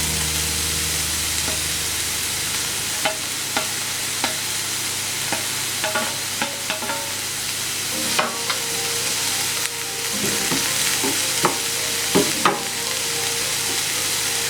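Crushed ginger and garlic fry in hot oil in a pan for a paneer curry, a steady close sizzle broken by several sharp scrapes and clicks of stirring.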